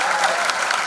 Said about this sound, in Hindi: एक बार और जोरदार ताली